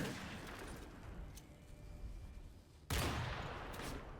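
Dense video game gunfire rattles in a continuous barrage, with a sharp louder burst near the end, heavy and close with no voices.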